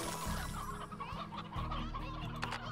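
Stony hens cluck in the farming game Slime Rancher, a busy overlapping run of close, repeated clucks and squawks from several birds over soft background game sound.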